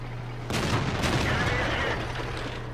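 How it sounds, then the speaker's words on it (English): A tank cannon fires in World of Tanks gameplay with a Tiger (P) heavy tank, giving one sudden, loud broadband boom followed by a rumbling, crackling tail over a steady engine hum. "3 shots from my cannon should be able to do it."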